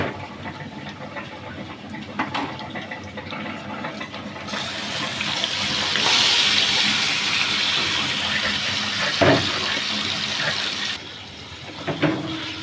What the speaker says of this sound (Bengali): হাঁড়িটা ধুয়ে পানি দিয়ে দিলাম